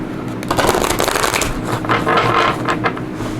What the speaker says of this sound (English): Good shuffle here.